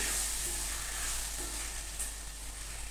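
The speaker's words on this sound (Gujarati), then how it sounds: "ડુંગળી અને બટેટાને આપણે બરાબર ચડાવી લઈશું" Onions and potatoes fry in a pan with a steady, even hiss of sizzling oil, close and continuous, occasionally marked by a faint stir, with no voices.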